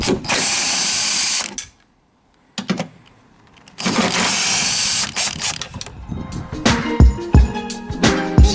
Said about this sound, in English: Makes it much easier if you have a rattle gun